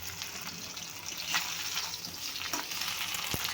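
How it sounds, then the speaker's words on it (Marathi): Fish fries in an iron kadai, a soft, steady sizzle with occasional faint crackles and a small utensil tap, quiet and close. "खरंच लोखंडाच्या कढईमध्ये खूप छान फिश फ्राय झालेली आहे"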